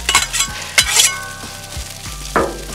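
Hash browns sizzle on a Blackstone griddle under a steady hiss, with a spatula scraping and clinking against the hot flat top at irregular intervals.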